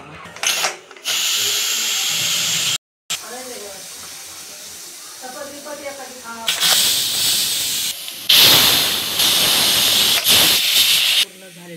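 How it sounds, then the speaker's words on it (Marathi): Loud rushing hiss of steam from a pressure cooker whistle, coming in long sustained blasts with brief breaks, close and harsh. "अशा प्रकारे कुकर शिट्टी लावणार आहोत"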